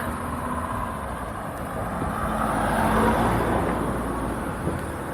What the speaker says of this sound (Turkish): çok fazla araba geçmeye başladı